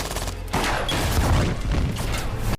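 A dense burst of gunfire from the film Bright: rapid overlapping shots in a loud, continuous fusillade with booming low-end impacts.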